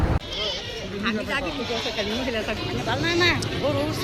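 Goats of all sizes bleat at a busy goat market, wavering cries rising and falling one after another over a constant hubbub of people talking nearby.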